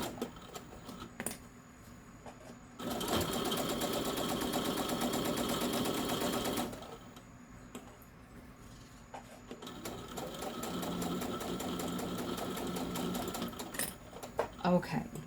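A sewing machine stitches back over elastic on a small carry-all bag, running in two long bursts with a pause between, the second stretch a bit uneven; a voice talks over parts of it.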